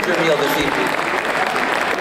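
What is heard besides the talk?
audience applause at a gala dinner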